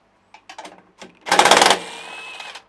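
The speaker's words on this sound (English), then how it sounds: "With an 8mm socket is what you're going to need for this. I'm just going to put this onto the 3 nuts and just loosen them off" Mechanical clicking and ratcheting from an 8mm socket loosening the nuts on the pull cord housing of an Allett Classic cylinder mower: a few sparse taps, then a short dense burst of rapid ratchet clicks, close and fairly loud.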